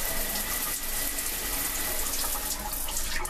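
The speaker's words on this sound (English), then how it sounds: "And again, water pressure on here is excellent." Strong shower water runs continuously in a small Disney Wonder cruise ship bathroom, a close, loud, even spray hiss with no talking.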